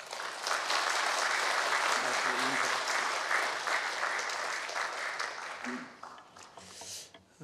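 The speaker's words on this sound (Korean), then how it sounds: "우리 4년 동안 수고해 주신 목사님께 격려의 박수를 부탁드립니다" A congregation claps to encourage a pastor at a church federation leadership ceremony, a dense burst of applause that holds for several seconds before tapering off into scattered claps and murmurs.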